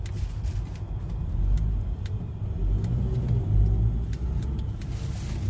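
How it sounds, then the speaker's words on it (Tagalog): Cars pass along a busy road in Kuwait, a loud continuous rumble of engines and tyres with swelling passes and faint revving, no talking heard over the traffic. "Traffic na siya dito papunta, pero sa other side hindi siya traffic."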